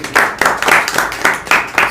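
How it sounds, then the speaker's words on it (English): Audience members at a debate and public-speaking training session clap for a speaker in a short run of sharp, evenly spaced claps, close and fairly loud. "Everyone have a big clap for him."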